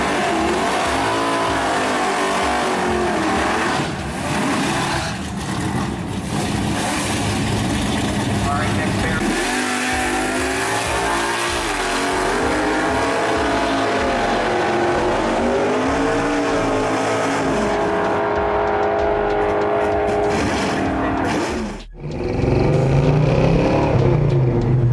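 A 1969 Dodge Dart 440 muscle car with a 375-horsepower 440 V8 roars steadily under acceleration, loud and continuous with engine revving throughout, briefly cutting out near the end before surging back, with a voice talking over it.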